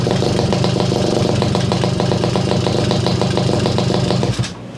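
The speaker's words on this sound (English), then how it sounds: "This is going to sputter and spit on me, but on the stand, idle's working good." A Garelli SSXL moped engine idles on its stand, a steady, loud putter with rapid regular firing pulses throughout, cutting out abruptly near the end.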